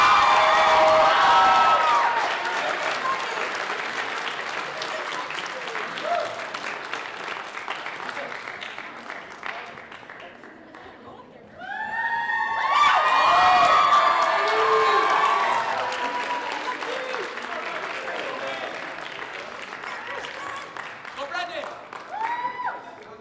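A band spring concert audience at a high school claps and cheers loudly with whoops, the applause fading toward the middle before a fresh, louder burst of cheering and clapping swells up and carries on.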